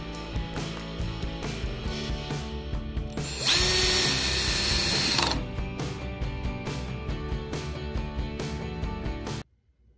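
A power drill drives screws into pallet wood for a compost bin, whirring and ratcheting up close in bursts, with a louder, sustained stretch of drilling in the middle and stopping abruptly near the end.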